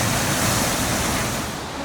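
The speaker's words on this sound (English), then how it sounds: "I feel like the waterfalls are so much better in the spring than in the fall." A powerful waterfall in the Columbia River Gorge, Oregon, pours in a steady, loud, broadband roar that fills the whole stretch with no pauses and no voices.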